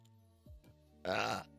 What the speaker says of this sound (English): That was a big burp.